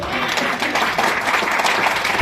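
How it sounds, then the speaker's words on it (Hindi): Audience clapping at a hotel guidance talk, a short burst of scattered applause that lasts about two seconds at moderate loudness, with a voice faintly audible beneath it. "तो फिर तालियां मार लेना।"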